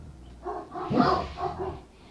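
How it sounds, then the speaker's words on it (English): Several dogs bark indoors at a house, giving a cluster of nearby woofs and yips that swell to a loud peak in the middle of a short burst before easing off. "What are they barking at?"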